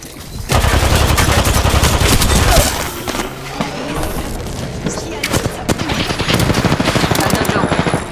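Sustained machine-gun fire in Apex Legends, loud and close, rattling in long automatic bursts that keep returning over several seconds, with a few heavier booms and game voice lines layered underneath.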